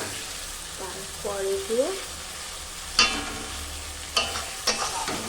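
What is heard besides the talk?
masala being stir-fried (kosha) in a pan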